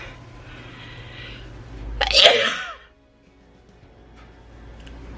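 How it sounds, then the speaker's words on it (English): One sharp, close sneeze bursts out midway through a quiet indoor moment during a crochet session, with soft breathing and faint room hum around it. "sorry, I had to sneeze."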